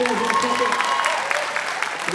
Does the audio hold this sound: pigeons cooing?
no